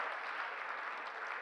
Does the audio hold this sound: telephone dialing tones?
no